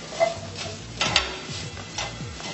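A veggie chorizo scramble is stirred without oil inside a rice cooker, with soft rhythmic scraping strokes and light clicks over a faint sizzle, close and fairly quiet.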